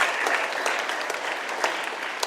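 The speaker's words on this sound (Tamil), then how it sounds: "ப்ளீஸ் அவளுக்கு ஒரு பாராட்டு கொடுங்க" Students clap for a classmate at a school moral-education session, giving a dense, steady round of applause with sharp individual claps that carries evenly throughout.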